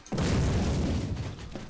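A loud, deep explosion in the video game Trouble in Terrorist Town bursts in suddenly and rumbles on with a heavy low roar, fading slightly toward the end; no talking.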